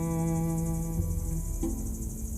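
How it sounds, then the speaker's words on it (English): Crickets chirp in a dense, continuous pulsing trill during a total solar eclipse over North America, close and steady, with a low hum running underneath. "crickets start their singing"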